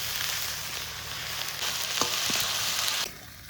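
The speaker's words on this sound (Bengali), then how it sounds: "তরকারি রান্না করার জন্য এবার মশলা কষিয়ে নেবো।" A paste of onion, ginger and garlic fries in hot oil with bay leaf, cinnamon, cardamom, cloves and cumin, giving a loud, close sizzle with a few stirring scrapes before the hiss suddenly drops away near the end.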